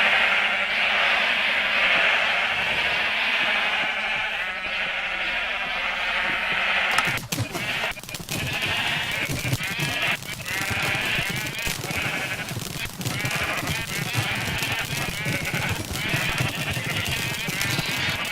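Sheep bleating in the Minecraft video game, several overlapping bleats repeating over steady game background sound, growing busier and louder in the second half.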